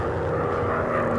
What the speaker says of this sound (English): Oh, bombers.